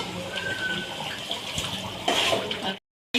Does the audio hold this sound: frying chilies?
no